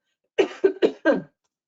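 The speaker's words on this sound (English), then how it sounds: "that was an unexpected cough." Four quick, harsh coughs in a row from one person, close by, with brief gaps between them and silence afterward.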